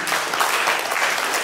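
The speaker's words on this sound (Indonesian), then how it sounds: "kita tutup diskusi kita hari ini dengan tepuk tangan untuk ketiga narasumber" Dense, even applause from a seminar audience for three panel speakers at a West Sumatran theatre and culture discussion, a continuous close crackle of many hands with no talk.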